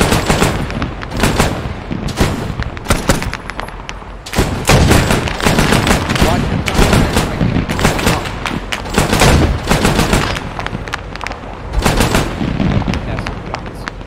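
Dense gunfire rattles through a military video game battle, with rapid machine-gun bursts and scattered single shots crackling loud and near for over ten seconds, with a few faint voices underneath.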